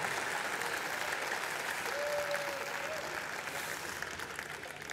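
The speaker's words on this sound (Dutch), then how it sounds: "ik zou toch nog één keer graag een applaus willen voor Waraans." Steady, dense applause from a seated audience at a season-closing celebration event, continuous clapping that fades slightly toward the end.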